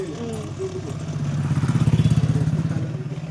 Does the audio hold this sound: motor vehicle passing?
yes